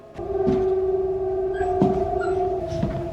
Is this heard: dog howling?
yes